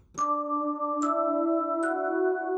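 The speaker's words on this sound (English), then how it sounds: "So just a clean kind of bell pad sound." Three soft bell-like synth chords with a clear chiming attack, each ringing into a smooth sustained pad, played alone at moderate volume.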